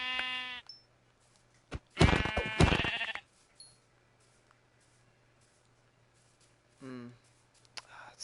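Minecraft sheep bleating in short separate calls, a few widely spaced bleats over near silence with faint clicks in between.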